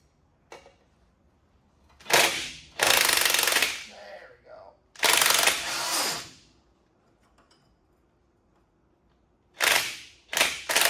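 An impact wrench fitted with a 6-point 9/16 socket hammers on a Firebird car in several loud, rattling bursts of a second or so, separated by quiet pauses, close by.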